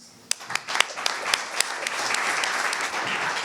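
Applause from the audience at a police prefecture eloquence contest as a speaker is called up, starting with scattered individual claps that swell into a steady, dense round of clapping.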